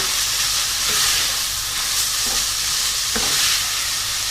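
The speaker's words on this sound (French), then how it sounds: "j'ajoute mes oignons et mon poivron. Je mélange." Onions and bell pepper are stirred in a one-pot rice dish with seasoned ground beef, giving a loud, steady sizzle and frying hiss with faint spoon scrapes throughout and no talking.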